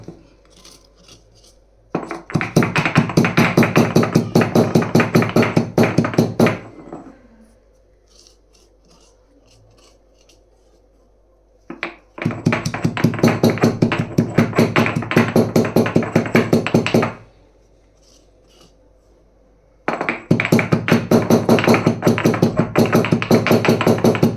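Curry leaves and spices pounded for rasam, a steady rapid run of sharp hard knocks repeating in three long bursts with quiet pauses between, close and loud.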